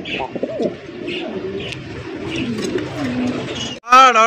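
Racing pigeons cooing softly and repeatedly close by, low throaty calls with light rustling, ending in a louder burst of cooing.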